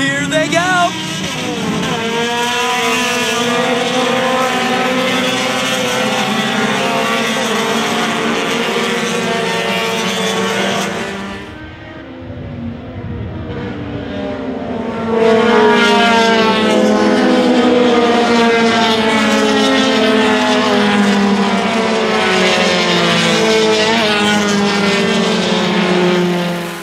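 Honda Challenge race cars at Mid-Ohio roar past after a restart, engines revving and shifting in a loud, layered pack that briefly drops and muffles before surging back as cars pass close.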